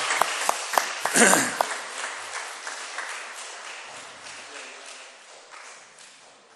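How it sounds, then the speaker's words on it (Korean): Congregation applause in a church during a Sunday service: a few sharp individual claps grow into a burst of clapping, then thin out and fade steadily over several seconds. "여러분들 큰 박수로 격려하겠습니다."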